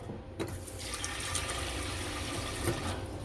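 Water runs from a tap into a pot to wash Thai jasmine rice, a steady close pour with a soft splashing rush and a couple of small knocks.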